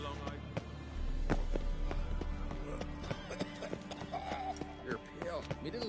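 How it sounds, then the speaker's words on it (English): Rhythmic hoofbeats of a galloping horse in a video game with a short whinny, mixed with game sound effects and someone talking over them. "That horse and his vibes."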